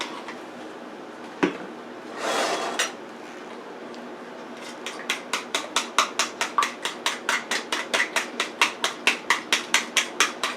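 A whisk or fork clinks rapidly against a bowl while beating a single egg for a spinach meatloaf, a close, even run of metallic taps following a brief earlier knock and rustle.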